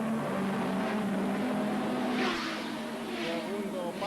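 Ford Sierra Cosworth touring race cars at the 1990 Alcañiz race hold a steady engine drone as one pulls out of another's slipstream to overtake, two swelling passes rising over continuous commentary.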